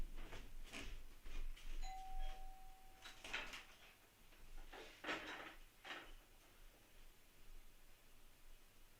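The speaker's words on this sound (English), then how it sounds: "The doorbell went off again, too." An indoor doorbell gives one short, clear electronic tone, faint against a quiet background with a few soft knocks and rustles.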